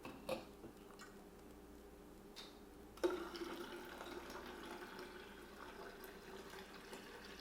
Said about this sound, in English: We're just gonna pour it in.